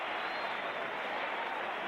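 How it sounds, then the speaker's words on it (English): Crowd at a Buffalo Bills home game against the Denver Broncos in 1984, a broad, steady roar of cheering and applause filling the stadium at even volume. "here's something for the crowd in Buffalo to finally cheer about"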